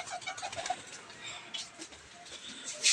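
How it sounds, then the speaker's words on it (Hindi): Pigeons cooing on a netted rooftop where they are being fed grain, soft repeated coos at close range with some wing flutter and rustling, plus a louder burst at the end. "और गाइस ये देखो कबूतर"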